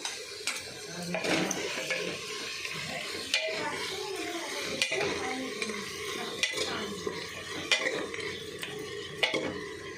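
Two tomatoes are stirred into mutton curry in a pot, with steady scraping and clinking of a spoon against metal and a light sizzle beneath, close and continuous for about ten seconds, with no talking.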